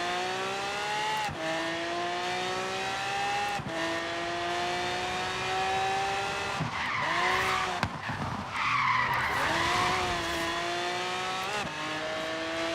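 A car racing in Forza Horizon 3 on Australian streets, its engine droning steadily through upshifts before long tire skids and squeals midway, loud and continuous with no talk.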